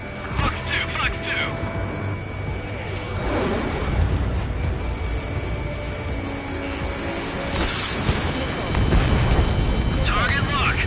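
In the Mace Combat flight game, an air-to-air missile launches with a roaring whoosh among booming blasts and a constant jet engine drone. Radio voices talk over the action.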